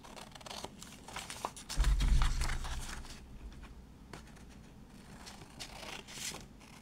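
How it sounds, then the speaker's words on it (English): Scissors snipping through a reduced A5 paper print, soft intermittent crisp cuts and rustles close by, with a brief low thump partway through. "I'm just going to cut it out."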